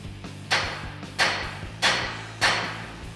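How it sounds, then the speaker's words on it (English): A 24-ounce hammer strikes a Jeep Wrangler JK draglink's rusted tapered fit, four sharp metallic whacks at a slow, even pace, each ringing briefly before the next blow. "As you can see, a couple of whacks and that taper fit comes apart."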